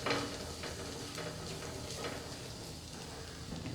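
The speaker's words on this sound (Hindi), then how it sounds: "लो फ्लेम पर हम इसे आधी मिनट के लिए सौटे करेंगे।" Chopped garlic and ginger with cumin sautéing in a pan over a low flame, a soft steady sizzle with a few faint stirring scrapes, quiet and close.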